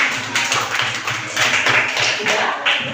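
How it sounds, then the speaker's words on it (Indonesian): Classroom clapping from students after a short speech, a loose burst of hand claps sustained over a few seconds with steady rhythmic pulses, fairly close and moderately loud, with faint voices mixed underneath. "Tepuk tangan."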